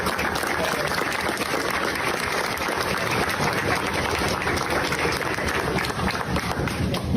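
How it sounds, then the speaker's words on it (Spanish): Studio audience applauding on a Peruvian TV talk show, a dense, steady wash of clapping that stays loud and unbroken throughout, with no pauses and no voices standing out. "quiero dar un aplauso tremendo para el día martes"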